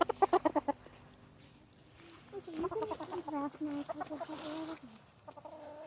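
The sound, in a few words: chicken clucking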